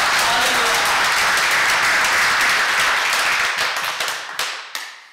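Congregation applause at a church revival service, dense loud clapping that holds steady and then thins out and fades toward the end.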